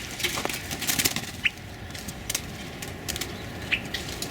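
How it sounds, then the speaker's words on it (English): A bird flaps its wings inside a chicken wire enclosure in loud, irregular bursts of flutter and rustling, with a few brief sharp taps, and no voices. "The bird that's in my chicken wire enclosure here."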